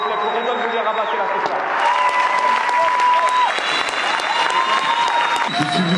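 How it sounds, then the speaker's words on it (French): A comedy show audience in a French venue gives loud, sustained applause, mixed with crowd noise and whistles, that continues steadily throughout. "Mesdames et messieurs, faites entendre un applaudissement s'il vous plaît pour Redouane Bouguer-Rabat"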